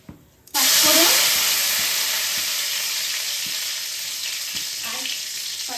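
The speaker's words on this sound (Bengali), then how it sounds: "তেলের উপরে দিয়ে দিতে হবে 5 ফোড়ন আর শুকনো লঙ্কা।" Five-spice seeds and dried red chilies hit hot oil, bursting into a loud, steady sizzle that rises sharply after a brief quiet start and holds close and bright, with faint stirring taps underneath.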